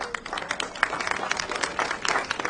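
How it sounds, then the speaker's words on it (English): An audience at a Texas Agriculture Commissioner debate applauds its sponsors, with scattered, moderately loud clapping spread across the room and sustained throughout. "Round of applause for all of our sponsors."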